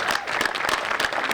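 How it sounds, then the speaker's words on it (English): An outdoor audience at a park grand opening applauds, many hands clapping in a brief, dense burst heard fairly close. "let's give them both a round of applause"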